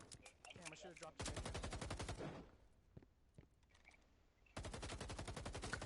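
Automatic rifle fire in a competitive shooter video game: long, loud rapid-fire bursts of gunshots, separated by a quieter stretch with scattered single shots and faint game sounds.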